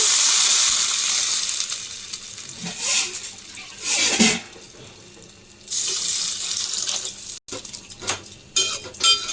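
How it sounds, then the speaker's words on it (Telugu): Water streams from a tap into a pan, three cups for a drumstick-leaf curry, with a bright, splashing rush, stopping and starting a few times with short gaps. "3 కప్పులు వాటర్ వేసుకుంటున్నాను"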